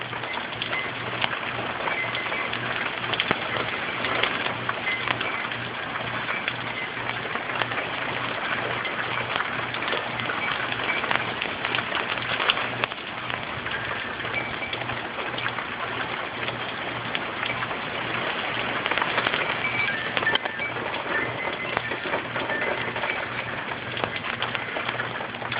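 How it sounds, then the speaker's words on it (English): Rain from tropical storm Isaac patters steadily with a constant wash of wind-blown noise, a few faint bird calls and hums underneath, no talk. "Rain is stopping. Wind has died down again."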